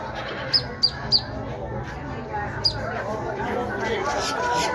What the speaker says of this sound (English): We got a few of these macaws.